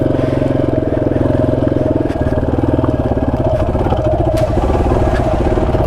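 An XT dual-sport motorcycle ridden over a rocky trail in New Mexico backcountry, its engine thrumming steadily and loud up close, with a brief dip in the middle and small knocks from the rough ground.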